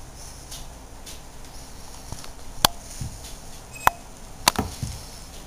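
A knife cuts straight down through a northern pike fillet, making a few sharp, close chopping clicks and taps against a board over a low steady background.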